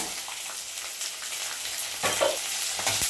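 Garlic cloves and cumin seeds frying in oil in a pan for a Telugu raw mango chutney, giving a steady close sizzle with a brief louder crackle near the end and no talk.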